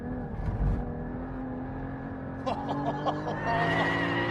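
Porsche Cayman GT4 engine holding a steady tonal drone that rises in pitch as revs build, heard from inside the car at moderate loudness.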